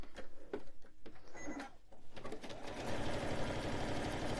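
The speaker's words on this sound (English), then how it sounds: "and sew across those" A sewing machine stitches lines across a quilted Christmas stocking, first in short separate bursts of rapid clatter, then settling into one fast, continuous whirring run up close.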